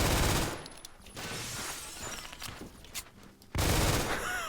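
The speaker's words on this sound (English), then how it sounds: "this thing is a pretty accurate machine pistol" Rapid bursts of automatic fire from a machine pistol in the shooter game Phantom Forces, loud and close, with dense crackling volleys broken by a short gap and then resuming.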